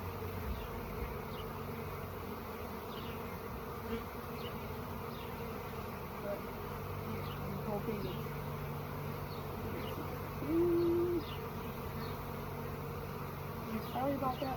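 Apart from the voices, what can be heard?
honey bees buzzing around the hive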